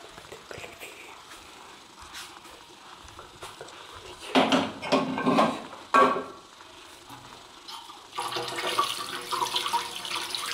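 Tap water runs and pours in a household setting, a steady hiss with louder gushing bursts and splashes, moderately close, with faint voices in the background.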